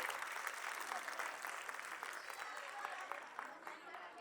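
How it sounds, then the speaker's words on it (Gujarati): A school audience gives steady, dense applause for its students. Many hands clap continuously at a moderate distance for the whole stretch, with a faint murmur from the crowd beneath. "તો આ બધા વિદ્યાર્થીઓ માટે જોરદાર એકવાર તાળીઓ થઈ જાય"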